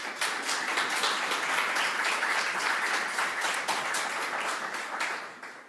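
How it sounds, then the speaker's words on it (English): A civic audience at a Toronto cultural-funding announcement breaks into a steady, dense round of applause that holds loud and even for several seconds before tapering off at the end. "Let's give them all a big round of applause"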